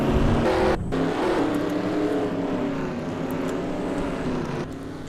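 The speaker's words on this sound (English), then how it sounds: "Drivers, start your engines!" NASCAR race cars in a sim racing game at Bowman Gray, with several engines droning and revving together in a thick, continuous roar that stays loud and close throughout, with no talking.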